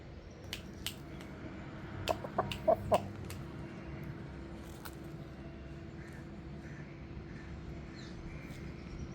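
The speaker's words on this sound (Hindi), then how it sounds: "ये एक और नया मुर्गा है।" A few short clucks from a rooster around the middle, fairly faint against a steady low hum and scattered clicks.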